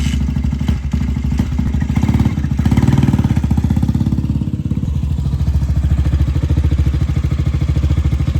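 A tall second-hand motorcycle's engine runs steadily up close, a low throbbing idle with a rhythmic clatter that swells briefly and then settles back to an even, loud chug.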